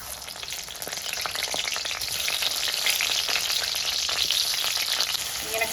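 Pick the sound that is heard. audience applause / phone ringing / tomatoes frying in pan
tomatoes frying in pan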